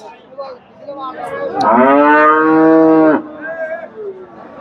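A Friesian dairy cow at a cattle market in Raiganj, Sirajganj, lets out one loud, close, drawn-out moo lasting about a second, with quieter market chatter before and after.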